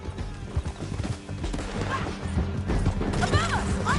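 Hooves clip-clop in a quick, steady rhythm as horses ride through a canyon in a western action game, with a whinny, mechanical clatter and crashing noises mixed into a loud, busy scene.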